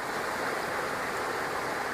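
A forest brook in Plaistow Town Forest rushes over rocks and a dammed-up stretch, a steady, dense close-up hiss of flowing water with no talking.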